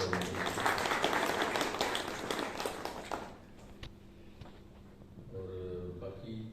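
A crowd bursts into applause at the Pak Marketing Annual Meeting 2022, a dense, steady clatter of clapping for about three seconds before it cuts off and a voice carries on speaking.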